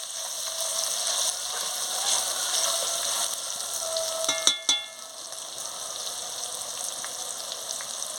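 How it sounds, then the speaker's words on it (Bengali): Turmeric powder stirred into spices frying for goat curry, a continuous sizzle under scraping strokes, broken by two sharp metallic clinks of the spoon against the pan before the frying settles lower. "হলুদের গুঁড়োটা দিয়ে দিচ্ছি, দিয়ে ভালো করে নাড়িয়ে নিচ্ছি।"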